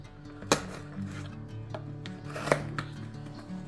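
A knife slicing open the packaging of Ray-Ban Wayfarer RB2140 sunglasses: close scraping and rasping with a few sharper snaps as the blade cuts through, over a low background hum, no talking.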